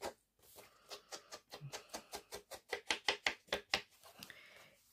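Paper for a scrapbook album page is cut with a blade, producing a rapid series of about twenty sharp, close strokes in a fast, steady rhythm that trails off into softer scraping.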